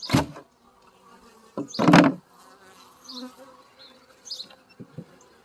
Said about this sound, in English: you guys can see there's lots of bees and such up there